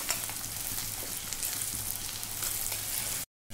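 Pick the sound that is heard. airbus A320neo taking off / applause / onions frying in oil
onions frying in oil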